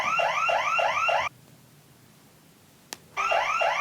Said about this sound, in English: He headed back to the cart as the alarm sounded.